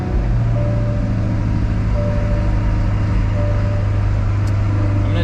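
A Chevrolet Corvette C8 convertible idles with a loud, deep, steady engine rumble close by, holding even throughout with no pause.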